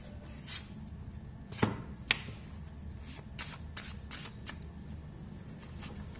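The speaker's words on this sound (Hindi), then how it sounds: "पहले यहां से भी कार्ड्स निकाल लेती हूँ।" Tarot cards being drawn from a deck and handled, soft close-up shuffling and sliding with a couple of sharper flicks early on, quiet and with no voice.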